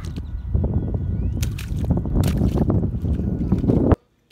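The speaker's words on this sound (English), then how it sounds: "I splashed in the puddles." A toddler's boots slap and splash through rain puddles outdoors, with a run of irregular watery splashes and sloshes over wind noise that stop abruptly.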